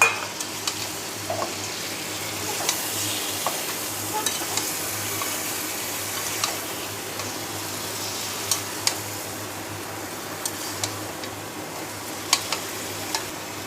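Chicken with spice paste and a splash of water stirred in a pan, for chicken kala bhuna: steady sizzling with scraping spoon strokes and occasional clinks against the pan, close and continuous, no talk.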